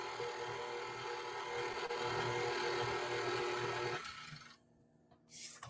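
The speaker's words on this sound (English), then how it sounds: "And then we're just going to blend this. Just until it's smooth." An electric mixer blends batter for a cake with a cookie dough filling; a steady broadband whir holds for about four seconds, then cuts off and drops to quiet, with a brief noise near the end.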